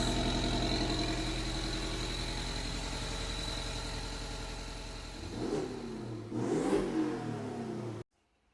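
A Porsche 718 Cayman S engine with downpipe runs steadily at idle with a low exhaust rumble, then revs up twice in short bursts before cutting off abruptly.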